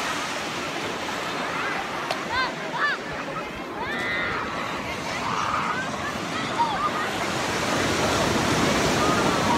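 Ocean waves wash continuously onto the beach at Playa los Ayala, a broad steady surf roar with faint voices in the background.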